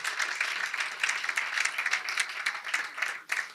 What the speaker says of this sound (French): j'aimerais vous encourager à les applaudir